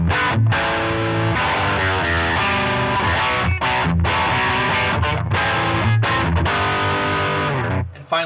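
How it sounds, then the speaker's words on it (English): Electric guitar run through a Line 6 HX Stomp XL on a heavy overdrive snapshot, chords and riffs played with a thick saturated tone, loud and close, ringing out alone for about eight seconds before cutting off. "Snapshot 3, plenty of overdrive to it."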